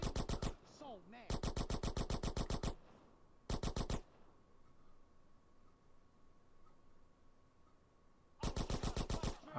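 Rapid automatic gunfire in GTA San Andreas Definitive Edition comes in loud, sharp bursts of crackling shots, separated by quieter gaps filled with a faint hum.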